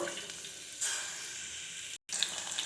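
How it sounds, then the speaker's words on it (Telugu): Chopped onion sizzling in hot oil for a curry, a steady hiss that jumps louder as the onion goes in, broken briefly by a cut, no talk. "ఇప్పుడైతే ఆయిల్ వేడైందండి"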